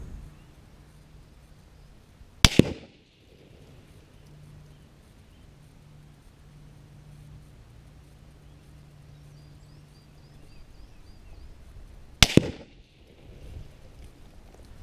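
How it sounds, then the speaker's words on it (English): A Lee Enfield No.4 Mk.1* rifle fires supersonic rounds at about 110 metres. Two sharp, loud shots sound some ten seconds apart, each bullet crack followed by the muzzle report a split second later, over quiet outdoor background. "there is a noticeable delay between the crack of the bullet passing the camera and the report from the muzzle of the rifle"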